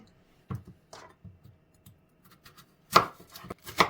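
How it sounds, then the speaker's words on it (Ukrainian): Knife chopping potatoes into cubes on a cutting board, a handful of irregular sharp taps followed by a quicker cluster of cuts. "А самі нарізаємо картоплю квадратиком."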